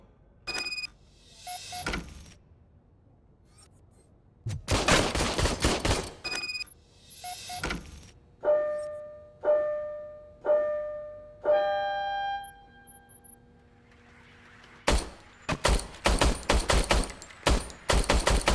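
An old service gun is fired in a video game, loud sharp bursts of gunfire coming in separate volleys, some shots ringing and decaying in a tinny metallic way between the louder rapid bursts.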